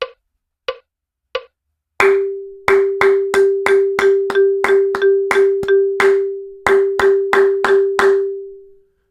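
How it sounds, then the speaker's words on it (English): Sharp, close hand claps: three single claps, then a steady run of evenly spaced claps beating out a simple 8th-note rhythm over a sustained held tone. "Okay, with some clapping."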